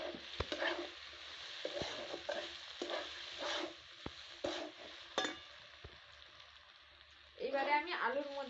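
Potatoes frying in a pan are stirred, with scraping and clacking strokes over a soft sizzle, and a voice speaks briefly near the end.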